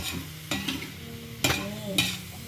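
Duck larb mixture is dry-roasted in a pan with a spatula scraping and stirring in several quick strokes, brief clattering scrapes over a low, steady background sizzle.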